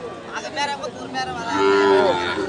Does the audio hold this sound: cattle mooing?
yes